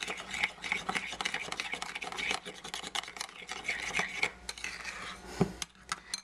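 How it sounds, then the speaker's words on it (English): Coconut yogurt being stirred in a bowl, a spoon scraping and rubbing against the sides in an uneven flurry of soft clinks and scrapes, close and unaccompanied by speech. "I'm going to just kind of mix that around."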